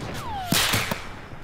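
A heavy sniper gunshot cracks in the Fortnite video game, a sharp whip-like report preceded by a descending whistle, followed by a couple of quieter thuds, all short and close.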